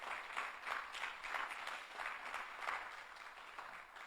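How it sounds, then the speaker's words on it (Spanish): A church congregation applauds steadily, a dense wash of clapping that swells and recedes slightly throughout, with no voices standing out. "Dale un aplauso fuerte a Jesucristo."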